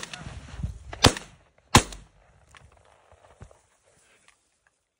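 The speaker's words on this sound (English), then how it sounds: "Three shots for a dollar" Gunfire during a hunt in Quebec, two sharp loud shots about a second apart, followed by faint rustling and a few soft knocks in an otherwise quiet outdoor setting.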